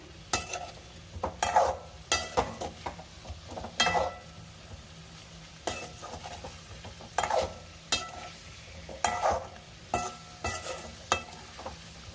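Paneer butter masala fries in a pan with a soft background sizzle, broken by repeated scraping stirs of a spoon against the pan at an uneven rhythm, close and fairly quiet, with no one speaking.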